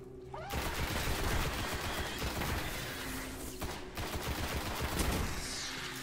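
Rapid, continuous gunfire in Destiny rattles throughout, dense automatic bursts with explosive cracks layered over a steady background.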